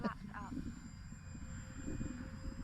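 A radio-controlled twin-motor Twin Otter scale model plane flies past, its motors giving a thin steady whine over constant low wind rumble outdoors.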